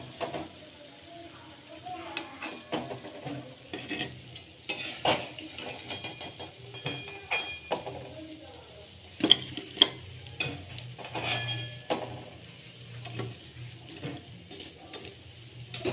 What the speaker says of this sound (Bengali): একটু আমি কম আছে আস্তে আস্তে ব্রাউন করে ভেজে নিলাম